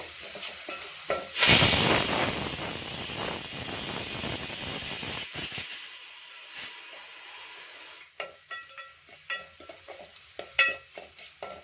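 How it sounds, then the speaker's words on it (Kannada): Onions sizzling in a pan with salt and turmeric for ridge gourd dal: a loud burst of frying hiss that settles into a steady sizzle, then fades into scattered spoon scrapes and clinks against the pan. "ಈರುಳ್ಳಿ ಕಲರು ಸ್ವಲ್ಪ ಚೇಂಜ್ ಆಗಬೇಕು, ಅಲ್ಲಿವರೆಗೂ ನಾವು ಫ್ರೈ ಮಾಡ್ಕೊಳ್ಳೋಣ"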